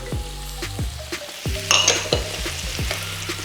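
Celery with red and green peppers sautéing in a pan, making a steady close sizzle with stirring scrapes throughout, alongside sustained tonal sounds.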